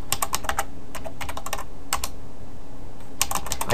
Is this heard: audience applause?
no